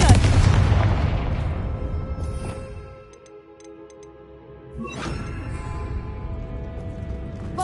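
Confringo fire spell blast in the Hogwarts Legacy video game, a loud booming explosion at the start that decays, then a second burst midway followed by sustained rumbling game sounds.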